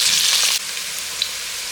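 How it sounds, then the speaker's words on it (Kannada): Onion and kasuri methi frying in oil for dhonne biryani, a loud steady sizzle close by that drops in level partway through, with a faint stir near the end. "ಈಗ ಈರುಳ್ಳಿ ಮತ್ತು ಕಸೂರಿ ಮೇಥಿ ಹಾಕಿದ್ನಲ್ಲ ಅದನ್ನು ಚೆನ್ನಾಗಿ ಫ್ರೈ ಮಾಡ್ಕೊಳ್ಳೋಣ"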